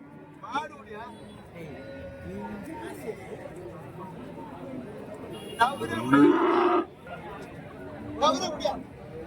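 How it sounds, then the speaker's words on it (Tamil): Cattle low repeatedly at a crowded cattle market in Karimangalam, long moos rising above steady crowd chatter, with the loudest calls near the end. "இதுங்கெல்லாம் வந்து சன மாடுங்க தான்"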